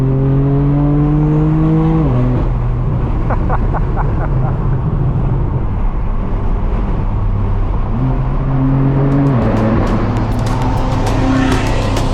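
BMW M cars, including an M8 Competition, an M5 Competition and G80 M3s, accelerate loudly on a highway, with engine revs climbing and dropping through gear shifts, a sustained close, roaring exhaust throughout.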